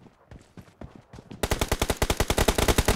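Rapid automatic gunfire in a video game, faint scattered shots at first, then a loud sustained burst of evenly spaced rounds firing in quick rhythm right up close.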